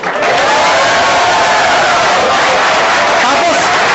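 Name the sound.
audience clapping and cheering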